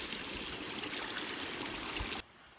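Steady rushing and trickling of a stream at a river crossing on a Peak District walk near Kinder, loud and close, running continuously before cutting off abruptly near the end.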